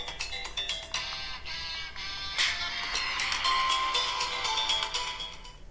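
A Vivo V25e phone speaker plays music at maximum volume, a steady bright tonal sound with rhythmic note onsets and a sustained tone, fairly loud and close, with no talking.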